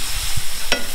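Garlic fries in oil over medium heat for satay chili oil, a constant bright sizzle with a low thump and a quick spatula scrape as it is stirred.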